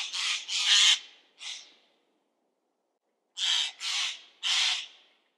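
A Eurasian jay gives harsh, raspy screeching calls, three loud rough notes, then a pause, then three more, close and alone with no other sound.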